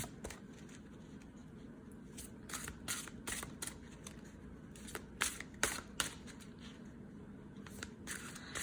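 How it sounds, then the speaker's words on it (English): Large tarot cards shuffled repeatedly at close range, a run of crisp riffling bursts and soft slaps, fairly quiet with no talking. "Let me shuffle really good."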